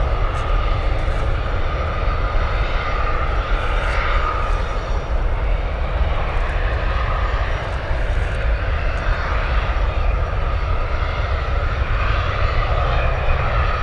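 Jet airliner engines roar on runway 28 Right at San Francisco International Airport, a loud, continuous broadband rumble with a dense low-end drone that holds steady throughout, with no voices.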